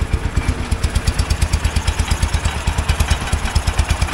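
A Wheel Horse garden tractor engine, run again after sitting for years with its carburetor uncleaned, idles in a steady rapid chug with even putt-putt pulses, close and fairly loud, no talking.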